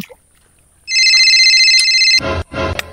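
A telephone ringtone bursts in loud and close, a steady electronic trill lasting just over a second before cutting off into a couple of short noisy thumps.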